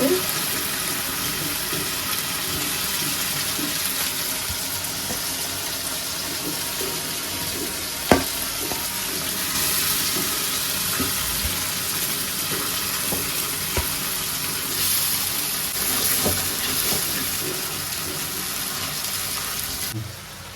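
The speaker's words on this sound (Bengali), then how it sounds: "এই যে মশলা সুন্দরভাবে কষাই নিলাম এখন মাছ দিয়ে আরো কিছুক্ষণ কষাই নেব" Fish sizzles and fries in spice masala while being stirred in a village kitchen, a continuous bright hiss with occasional scraping and clinks, steady and close throughout.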